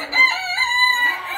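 Barred Plymouth Rock rooster crowing once, close and clear, a single rising and falling harmonic call lasting over a second.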